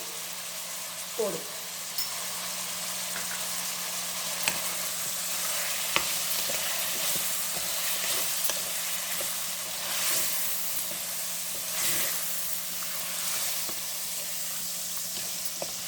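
Chicken pepper fry sizzling steadily in oil in a pan, with intermittent scraping stirs and light clinks across the whole stretch, a close, continuous frying hiss throughout.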